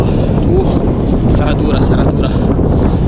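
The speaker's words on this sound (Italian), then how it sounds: "speriamo che domani non ci sia questo vento, perché basta" Strong wind roars and buffets steadily while cycling through open cultivated fields in cold weather, loud and constant, with a voice speaking over it.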